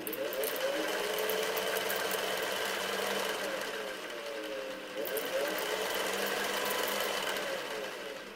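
A Singer Touch and Sew 603e sewing machine runs steadily before being oiled, giving a continuous mechanical whir with a knocking, rattly edge that eases briefly once partway through.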